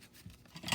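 A quick snip of scissors trimming twine on a handmade pumpkin card, a short close rasping cut on its own.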